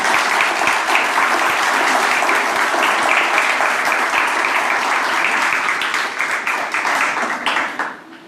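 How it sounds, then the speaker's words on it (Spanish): A church congregation at a Spanish-language Sunday service breaks into loud, sustained applause, a thick wash of many clapping hands that stays strong for most of its length before tapering off near the end. "¿Cuántos le dan un aplauso a ese Dios?"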